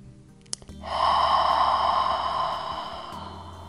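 Long breath exhaled out through the open mouth as a sighing ha during a yoga session, one steady, close, breathy rush lasting about two seconds, fading gently at the end.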